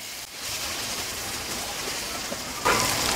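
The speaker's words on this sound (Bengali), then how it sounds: "পানিটা জলদি ফুটে উঠছে।" Water boils in a pan of spiced potato curry over a raised flame, making a steady, rain-like bubbling hiss that grows a little louder toward the end, close by with no speech.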